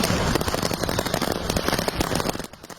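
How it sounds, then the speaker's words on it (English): Fireworks going off from a crashed trailer on a Canadian roadway, a dense, continuous barrage of crackling pops and bangs that carries on loudly throughout with no pauses. "Some lucky drivers out in Canada treated to this spectacular fireworks show"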